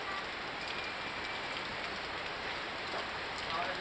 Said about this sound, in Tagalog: Diyan na ulan.